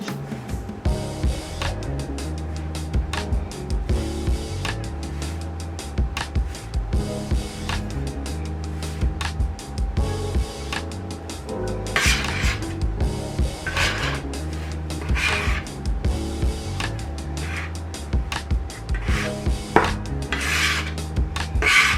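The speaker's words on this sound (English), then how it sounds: "now you can start mixing with your hands" Homemade pasta dough mixed by hand without a machine, a soft continuous rubbing and squishing close up, with irregular scraping and light knocks against a bowl at a quiet level, no talk.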